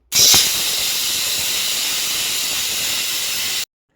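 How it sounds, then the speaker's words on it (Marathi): A pressure cooker boiling potatoes lets off a loud, sharp whistle that settles into a long, steady steam hiss lasting several seconds, then cuts off abruptly. "आणि इथे कुकरची ना एखादी शिट्टी थोडीशी जास्तच घ्यायची आहे."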